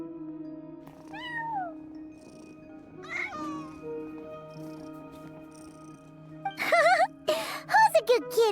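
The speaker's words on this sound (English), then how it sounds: "Who's a good kitty?" A cat meows several times in a video game scene, with a few soft mews early on followed by a louder, rising run of meows and caterwauls near the end, while background music plays throughout.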